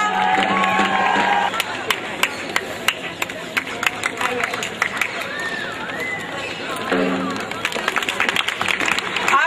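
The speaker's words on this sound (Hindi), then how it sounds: "जोरदार तालियां" People at a street-play event at IITF 2010 clap in scattered, sharp bursts over crowd chatter and a speaking voice.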